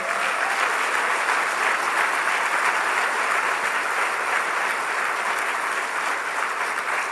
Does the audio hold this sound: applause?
yes